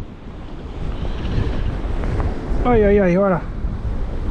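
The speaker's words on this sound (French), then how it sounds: "le vent s'accélère à chaque fois qu'il pleut, c'est bizarre" Strong wind blusters across a boat at sea during mackerel fishing, a steady rushing roar over the microphone with surf underneath; a voice exclaims briefly near the end.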